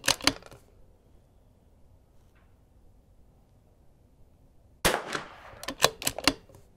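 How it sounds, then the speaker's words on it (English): A Vudoo V-22 rimfire rifle firing a magazine at an outdoor range: a few sharp close shots at the start, a long quiet pause, then a quick run of loud cracks with clicks of the action. "So we'll have to run through at least one full mag to get it warmed up."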